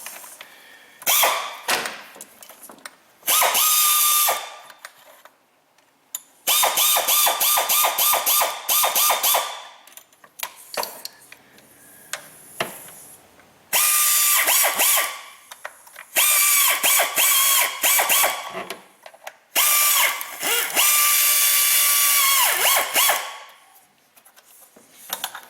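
Ratchet wrench tightening the EGR tube bolts on a Dodge Caravan in several bursts of rapid clicking, close and loud, separated by short pauses with faint handling noise.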